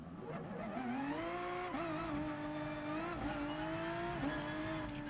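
A race car engine in Gran Turismo Sport holds a steady, loud drone at near-constant pitch, with small upward shifts as the revs change, running the whole time with no talk.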